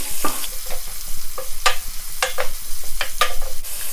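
Half an onion fries in a pan for a vegan broccoli stir fry, a loud close sizzle broken by repeated scraping strokes of a spatula at an irregular rhythm.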